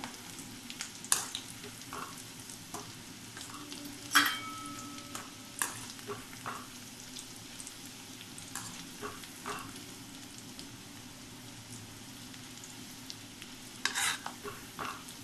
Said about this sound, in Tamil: நல்லா கோல்டன் ப்ரௌன் வர வரைக்கும் நம்ம இதை இதே ஃப்ளேம்லேயே வச்சு ஃப்ரை பண்ணணும்